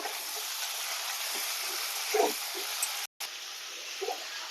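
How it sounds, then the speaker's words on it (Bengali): Cut potatoes with a little salt fry in a pan, a soft steady sizzle with a few faint stirring clatters, one brief dropout near the end. "আলুটাকে দু তিন মিনিট একটু ভাজতে রেখে"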